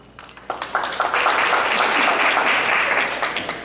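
Applause from an audience at a county executive and town board candidate forum swells after a brief quiet moment, then holds as dense, sustained clapping filling the hall.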